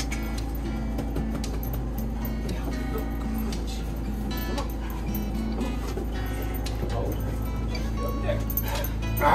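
A dog barking, yipping and whimpering by a floating house, intermittent short barks and whiny yips over a constant low engine-like hum, fairly close, with a louder burst at the very end.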